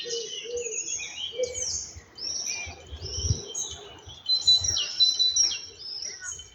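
Small birds chirp and trill outdoors at a castle in Kwidzyn, Poland, with several overlapping calls repeating throughout, fairly close and clear over faint low background noise.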